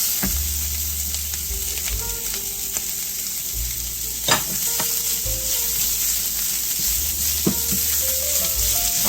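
Anchovies and parsley, stalks included, sautéing in a pan for a Mediterranean tuna pasta, giving a steady close sizzle with occasional stirring clicks and scrapes throughout, no talking.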